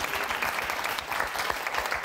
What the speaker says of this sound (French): Clément, merci, bravo, on vous applaudit.